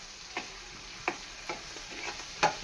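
Curry ingredients fry in a pan with a soft, low sizzle. Sharp ticks of a spoon against the pan come at uneven intervals, close and fairly quiet, with no talk.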